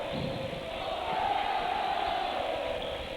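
Basketball crowd of Rhodes Rowdies in a college gym, a smaller than usual crowd on a rainy night, swelling into a steady, moderately loud cheer and roar for a few seconds.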